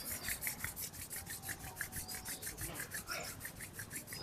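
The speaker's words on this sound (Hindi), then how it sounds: "अपने हाथों को रब करें।" Hands rubbing briskly together during a yoga cool-down, a soft, rapid, even swishing of about five strokes per second, close and quiet, with no talk.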